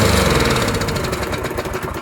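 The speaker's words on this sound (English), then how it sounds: "the engine fired right up with the fresh carb cleaner sprayed into the cylinder" A small lawnmower engine fires up after carb cleaner is sprayed into its cylinder, running loud and close with a rapid, rough chugging throughout.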